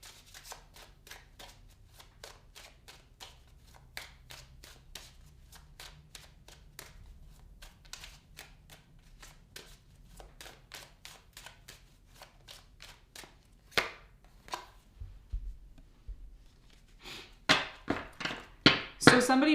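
Tarot cards being shuffled by hand, a quick steady run of soft riffling flicks and taps close by, growing louder and sharper toward the end with a few firmer slaps.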